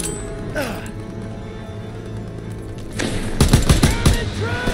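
Rapid machine gun fire bursts out loudly in a World War II battle in Call of Duty WW2, heavy repeated shots dominating the last second and a half over busy combat ambience.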